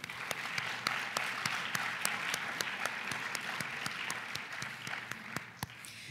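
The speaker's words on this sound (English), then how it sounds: "Give yourselves a round of applause for that." Audience applause at a college event, steady close clapping from a crowd that keeps an even density from start to finish and carries on alone without any voices.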